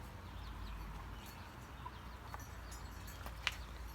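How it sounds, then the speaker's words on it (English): Hens in an outdoor chicken run cluck faintly and sporadically against a quiet background, with one brief sharper call near the end. "Got my chickens out in the chicken run."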